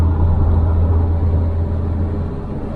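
A car cruises along the E45 motorway heading south toward Germany, a steady low engine and road rumble with tyre whir, close and constant, fading slightly toward the end, with no talk.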